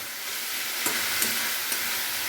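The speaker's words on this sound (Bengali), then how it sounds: "ভালো করে মিশিয়ে নেব ভালো করে মিশিয়ে নিলাম" Red amaranth greens stirred and frying in a pan, a steady close sizzle with a few soft scrapes of the spoon, alone without talk.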